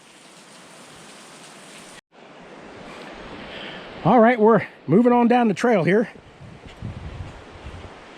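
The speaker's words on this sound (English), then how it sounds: "And I hear water up that way." Rushing water near a forest trail makes a steady broadband hiss beneath everything, while someone talks loudly over it in the middle.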